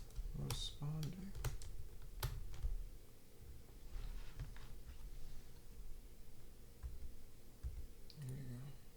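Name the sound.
computer keyboard being typed on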